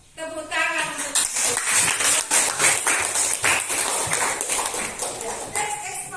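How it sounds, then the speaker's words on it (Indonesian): A classroom of students claps together in a burst of applause, dense rapid hand claps that swell quickly and then taper off, with a teacher's voice heard briefly at the start. "tepuk tangan untuk"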